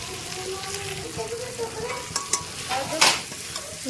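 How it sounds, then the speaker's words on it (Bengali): Potatoes mashed and sautéed with spices and tomato sauce in a pan, a close steady sizzle with repeated scraping stirs and a loud metallic scrape near the end, with a faint voice in the background. "আলুটাকে দিয়ে ভালো করে মাখা করে কষিয়ে নেওয়া হচ্ছে"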